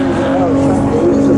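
BMW and Jaguar pre-1983 touring race cars at Donington Park, heading into Redgate corner, making a loud, steady engine roar with a sustained tonal drone that holds for the whole moment, close to the track.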